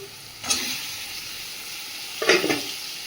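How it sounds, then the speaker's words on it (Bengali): Boiled potatoes frying with turmeric in a pan, a steady hissing sizzle broken by two bursts of louder crackle as the pieces are stirred. "আলুটাকে ভালো করে ভেজে নিয়েছি এর মধ্যে দিয়ে দেবো সেদ্ধ করে রাখা আলু"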